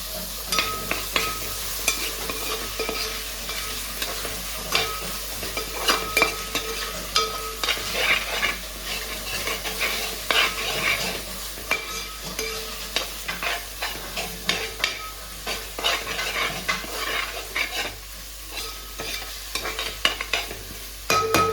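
Tomatoes sauté in a pan for a murrel fish curry, a spoon scraping and stirring in repeated, uneven strokes over a soft, steady sizzle, close and clear with no talking.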